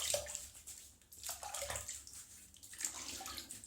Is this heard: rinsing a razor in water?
yes